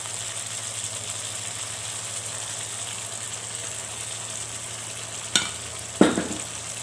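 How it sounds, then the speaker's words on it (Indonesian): Ground sambal paste is stir-fried in oil over medium heat, producing a soft, even sizzle over a steady hum, broken near the end by two sharp scrapes of a spatula, with no voices. "Kita gongso hingga benar-benar matang ya, dengan api sedang aja ya."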